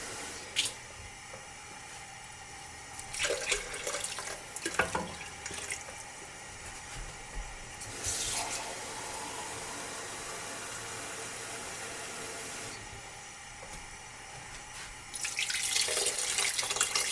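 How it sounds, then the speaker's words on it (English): Water runs from a kitchen tap into a pot for beef halim, a continuous splashing rush with a few clunks and shifts in flow, louder again near the end. "And we're gonna add 2 cups of water to this."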